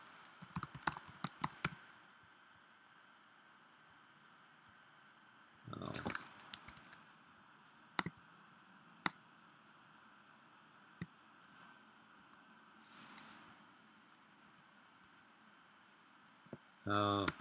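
Keys clack on a computer keyboard while C++ code is typed in Visual Studio, coming in short bursts of quick clicks with pauses between them, faint over a steady background hiss.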